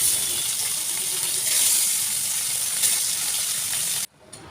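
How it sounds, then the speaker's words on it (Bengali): Fish frying in hot oil in a wok, a steady broadband sizzle that holds loud and continuous before cutting off abruptly near the end. "তো দেখো মাছ ভাজতে বসিয়ে দিয়েছি।"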